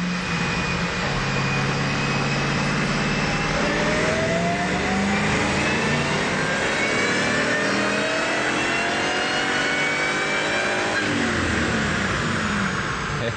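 A 2003 Ford Mustang Cobra engine pulls hard on a dyno, its loud, steady roar rising in pitch through a long continuous run with no talking over it.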